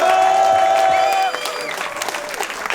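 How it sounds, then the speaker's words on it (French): An audience at a rap battle event applauds and cheers loudly, then the clapping thins out and fades while a few voices call out. "faut applaudisser, encouragez-les. Bravo à eux."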